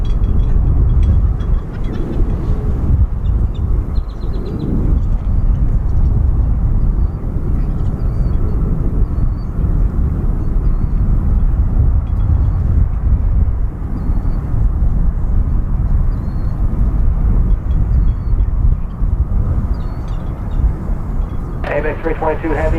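A heavy airliner, Apex 322, departs DFW International Airport with a loud, sustained jet roar that dominates throughout, while voices and radio chatter are faintly audible beneath it.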